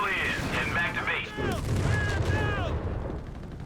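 Machine-gun and submachine-gun fire from a .30 cal and MP40 Grenadiers in the strategy game Company of Heroes 3, bursts rattling under a talking commentator with scattered battle noise.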